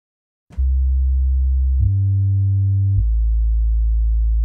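A software synth sub bass preset plays alone as a loud, clean sustained low tone that starts with a short bright attack and steps down in pitch twice while holding steady throughout.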